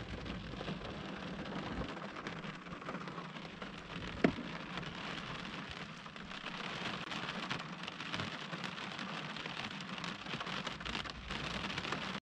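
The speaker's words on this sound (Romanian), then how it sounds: "Plouă de sparge." Heavy rain pours down on a car roof at a night fishing spot on a Danube delta canal, a dense steady hiss of drops with one brief sharper knock partway through and no voices.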